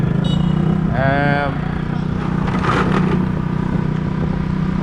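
A motorbike engine hums steadily while riding in Hanoi, with a rising whine early on and wind rumble throughout.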